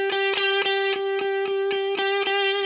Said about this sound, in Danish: der kommer generelt mere skrald, mere overdrive hele tiden